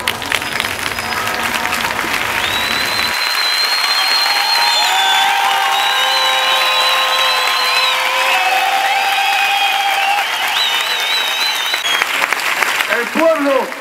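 A crowd at a protest camp in Granada breaks into sustained applause, steady and fairly loud for over ten seconds, with whistle-like tones and scattered voices mixed in.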